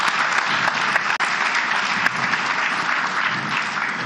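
Audience applause at the opening ceremony of a customs conference in Nigeria, honoring the WTO Secretary General: loud, dense, continuous clapping from a large crowd filling the hall, with no speech.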